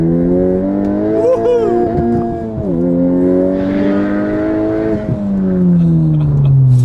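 A Honda car engine revs hard and climbs in pitch through the gears, loud and close, with a brief dip between shifts before pulling up again.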